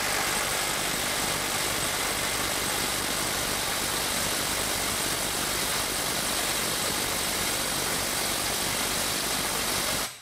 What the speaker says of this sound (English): Now we're going to go into mode three and just run a couple of these and see if we max out our torque wrench.